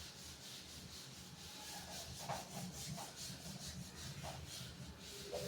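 A duster or eraser scrubs chalk off a classroom blackboard with steady, continuous rough rubbing close by. The strokes come in a few slightly stronger pulses.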